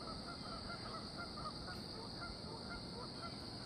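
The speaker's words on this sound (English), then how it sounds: "Looks like the Canadian geese are coming in here to land." Canada geese honk repeatedly as they come in to land, the calls faint and scattered over a steady, loud background rush.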